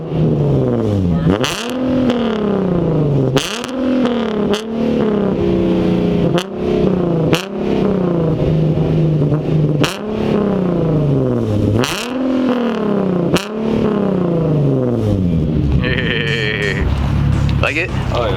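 Infiniti car with a straight-pipe exhaust revs repeatedly, each loud blip rising then falling back, in an uneven rhythm close by. People talk in between the revs.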